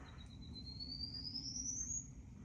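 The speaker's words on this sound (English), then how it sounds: "There he goes, the little bird." A small bird on the Appalachian Trail in New Jersey gives one thin, high whistle that slides slowly upward for about two seconds, clear and moderately close above a steady low rumble of outdoor noise.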